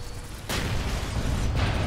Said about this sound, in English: I finished him off with the fusion cannon